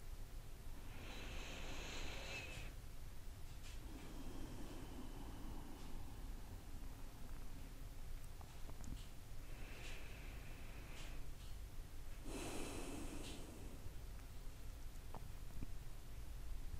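A few slow, deep breaths in and out during a calm meditation, soft airy rushes spaced several seconds apart, faint and close over a quiet background hiss.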